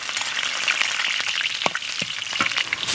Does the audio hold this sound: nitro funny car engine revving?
no